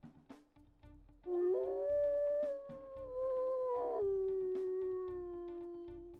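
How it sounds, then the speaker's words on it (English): A wolf in the video game WolfQuest lets out a long, deep howl that holds steady and bends slightly downward, clear and loud over faint game ambience for several seconds. "we will go ahead and we'll listen to his howls."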